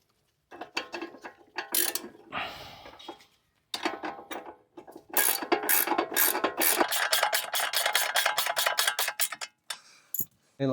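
A ratchet clicks in rapid bursts while tightening a control arm bolt on a 2009 Audi A5 during front upper control arm replacement, close and loud with short pauses between strokes.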